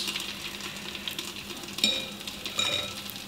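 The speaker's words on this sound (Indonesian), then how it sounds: "Kita goreng aja terus sampai adonannya habis." Korean pentol balls of dough sizzle and fry in hot oil, a steady crackling hiss close by with a couple of brief spoon or utensil clinks in the pan.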